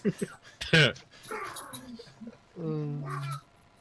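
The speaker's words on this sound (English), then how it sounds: "What the heck are the dogs doing? They're playing." Dogs at play, giving off yips, whimpers and short growly vocalizations in bursts, close by, mixed with people talking over them.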